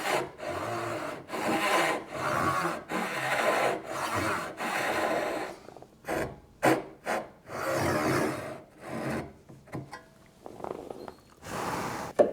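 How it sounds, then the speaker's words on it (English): A chisel pares and scrapes wooden tenons and squares off mortises in repeated short rasping strokes, close and distinct, with brief pauses between bursts. "I use a chisel to clean up the tenons, and also to square off the mortises."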